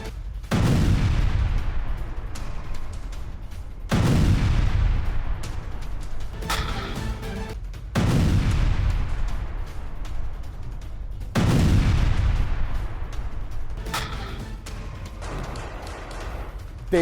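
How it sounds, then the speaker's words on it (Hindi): Repeated heavy blasts and gunfire from an IDF strike on a Hezbollah spy tower at the Lebanon border, four big booming impacts every few seconds, each followed by rumbling decay and crackling shots, with no talk. "हिजबुल्लाह के जासूसी टावर पर आईडीएफ ने इस बार हमला किया है।"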